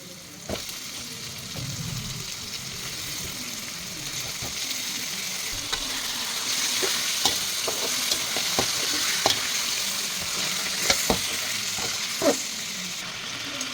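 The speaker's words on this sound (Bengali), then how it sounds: "এখন এর মধ্যে মাংসগুলো দিয়ে মাংসগুলোকেও কষিয়ে নিতে হবে" Chicken pieces are fried and stirred in spice masala with chui jhal and whole garlic, giving a continuous close sizzle with irregular scraping clicks from the spatula that grow busier toward the end.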